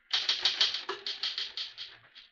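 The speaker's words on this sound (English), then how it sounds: "Finish typing it and I'll sign it." A manual typewriter clatters in a quick run of about a dozen close, sharp keystrokes, evenly spaced and easing off toward the end, with no voices over it, set in a 1951 Scotland Yard radio mystery drama.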